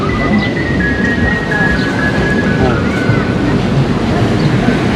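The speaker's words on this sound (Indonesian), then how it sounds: "ini udah nyampe di pantai Apra" Waves and wind at Apra beach, a loud, constant roaring wash with buffeting wind on the microphone and a faint thin tone drifting through, continuous throughout.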